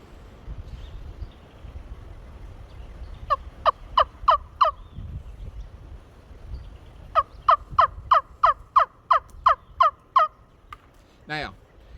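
Two runs of crisp, two-tone hen turkey yelps played on a wooden wing-bone call, a short burst of five then a longer series of about ten evenly spaced notes, close and loud, followed by a brief rising squeal.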